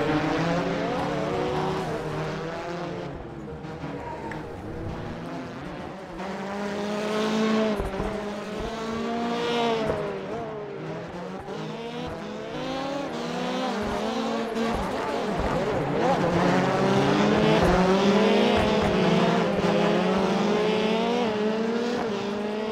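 Rallycross race cars in the iRacing video game battling on a circuit at Iowa, with engines revving and shifting, several cars overlapping, and tires skidding, loud and continuous throughout.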